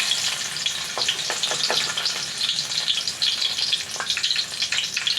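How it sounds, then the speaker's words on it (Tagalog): Garlic fries in hot oil in a pan for chicken liver and heart adobo, a dense, steady close-up sizzle with small crackles and a few light stirring clicks, no voices. "Ilalagay na natin una yung bawang."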